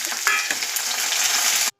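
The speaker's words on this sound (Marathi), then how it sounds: "फोडणीसाठी तेल ठेवले आणि जिरे, मोहरी, नंतर कांदा, कढीपत्ता, शेंगदाणे असं घालून ते आता गुलाबी रंगावर परतून घेणार आहे" Hot oil crackles and sizzles steadily as cumin, mustard seeds, onion, curry leaves and peanuts fry for a tempering, a close, bright hiss that runs without pause and then cuts off abruptly.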